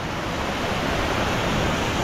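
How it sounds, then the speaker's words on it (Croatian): The Ilomska waterfall on Vlašić thunders in a dense, steady roar of falling water, loud and close with no break, filling the whole short stretch. "Idemo snimiti još par ovih slapova."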